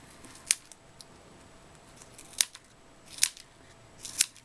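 Scissors snip through card paper for a handmade Valentine's card, four crisp, distinct cuts spaced unevenly over a quiet background, close and clear with no talking.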